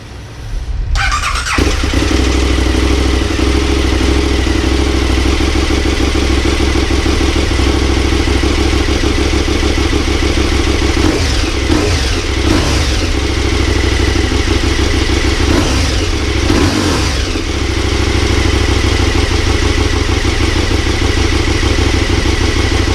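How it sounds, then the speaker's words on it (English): A KTM 1290 Super Adventure R motorcycle with stock exhaust cold-starts, cranking and catching, then settles into a loud, steady idle with a rough, throbbing exhaust note that continues throughout. "So I'm gonna fire this up, cold start, stock the exhaust."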